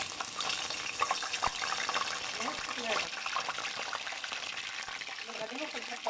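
Cauliflower florets dipped in water then fried in a pan give a quiet, continuous crackling sizzle with scattered pops, with voices faintly present in the background.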